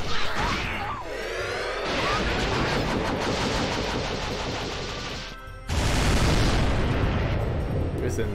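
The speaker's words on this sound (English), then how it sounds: "There's an added explosion for flair." Explosion effect from the video game Disgaea 4: loud, booming crashes roll on for several seconds, dip briefly, then a second heavy blast surges back in at full strength.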